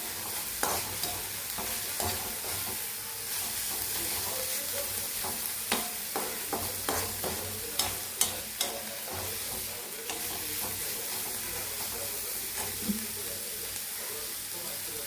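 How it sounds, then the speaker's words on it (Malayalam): A mushroom and sambar dish is stirred in a hot pan, with clustered scraping and clinking strokes over a continuous hissing sizzle, near and fairly quiet, with no talking. "നമുക്കിനി ഇളക്കിയിട്ട് ഒന്നുകൂടെ ആക്കിയെടുക്കാം."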